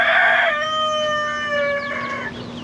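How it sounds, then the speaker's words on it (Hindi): A rooster crows once, loud and close, outdoors on a historic American farm, a long drawn-out call that tails off, with a faint steady hum underneath. "ये देखिए ओपन में चिकन बांग देते हुए।"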